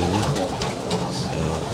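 Pigeons cooing steadily inside a UK breeding loft for racing birds, a dense layered murmur of many soft coos with no voices.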